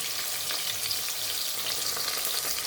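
Two medium onions sizzle steadily in a hot pan for egg biryani, a continuous close frying hiss with light stirring scrapes and no voices.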